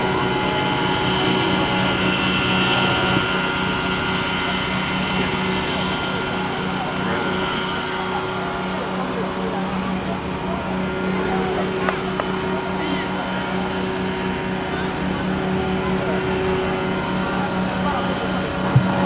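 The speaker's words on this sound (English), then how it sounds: "And Mario's taxiing in now" A Mosquito ultralight helicopter taxis in at a Rotorfest fly-in, giving off a steady, moderately distant engine and rotor drone beneath a commentator talking throughout.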